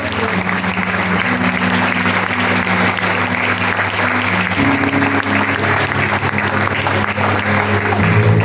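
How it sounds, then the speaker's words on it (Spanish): A church congregation breaks into loud, steady applause during a worship service, with a sustained keyboard or organ chord ringing underneath that shifts pitch partway through. "Dale un fuerte aplauso a Dios."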